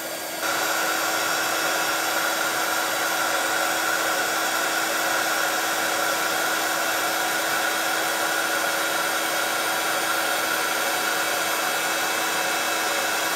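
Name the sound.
heat gun blowing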